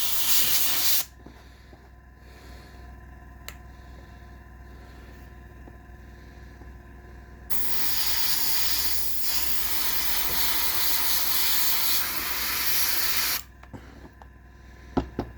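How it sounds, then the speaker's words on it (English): An airbrush sprays a mix of paint and tap water onto a Bandai 1/48 scale King Tiger tank model, giving two long, close hissing bursts separated by a quieter stretch with faint clicks. "that's spraying nicely with just paint and tap water"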